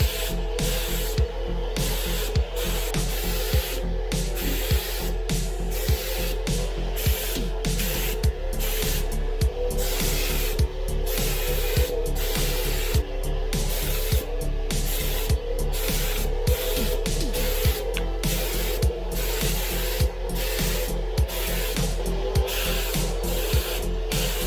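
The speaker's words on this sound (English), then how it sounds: "Let's go ahead and spray the engine bay." Primer sprays in sustained hissing bursts onto a car engine bay, broken by regular short pauses and a steady clicking rhythm from the spray gun over a constant low hum.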